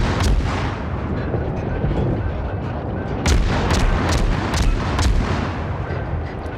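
A Farragut destroyer's guns fire at an enemy ship in World of Warships, a rolling series of deep booming shots over constant engine and sea rumble, with a quick cluster of sharp reports toward the end.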